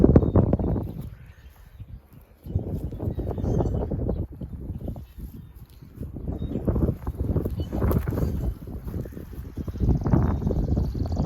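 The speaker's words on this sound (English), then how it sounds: "Sorry about the wind." Heavy wind buffeting a microphone in loud, low rumbling gusts that rise and fall, with brief calmer stretches between.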